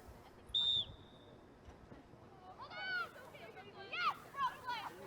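A referee's whistle sounds once, short and sharp near the start, at a girls high school lacrosse game between Blaine and Centennial. Outdoor crowd chatter and scattered voices follow at moderate distance.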